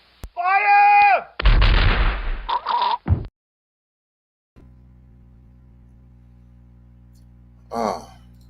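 Firing-squad volley in a game: a sharp blast followed by a long, booming burst of gunfire with a few trailing pops, then near silence and a low hum. A shouted voice comes before the shots and another voice after.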